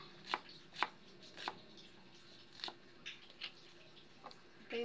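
A knife slicing cucumber and onion on a board for a cucumber salad, about ten crisp separate cuts in an uneven rhythm, close and fairly quiet, with no talk.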